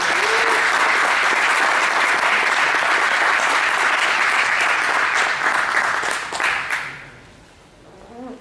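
A conference audience gives a speaker sustained, dense applause that stays loud and steady for about six seconds, then fades into a few scattered claps and near silence.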